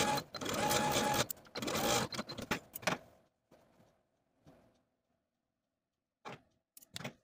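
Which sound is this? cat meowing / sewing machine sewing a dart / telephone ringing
sewing machine sewing a dart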